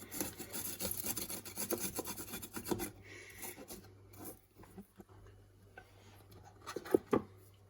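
Garlic is rasped against a kitchen grater in quick, close, scratchy strokes, busy at first and then thinning out to a few scattered scrapes and clicks, with no talking.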